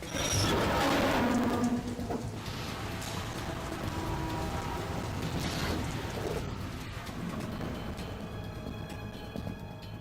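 Rain in the video game Metal Gear Solid 2 hisses as a steady, dense wash with scattered patter and a few light clatters, holding at moderate level throughout without speech.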